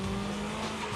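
A mid-engine car drifts with its tail sliding under throttle, the engine droning loud and close over a continuous hiss of tire noise.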